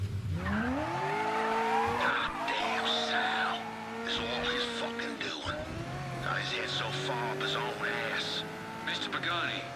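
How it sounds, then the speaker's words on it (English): A car in the video game Mafia III pulls away with tires squealing and skidding over a revving engine whose pitch climbs and shifts, while voices talk over it. "Frank, get in the car and get out of here!"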